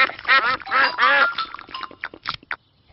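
Cartoon ducks in Peppa Pig give a quick run of loud, nasal quacks, several calls overlapping close together before trailing off into a few short, sparser ones.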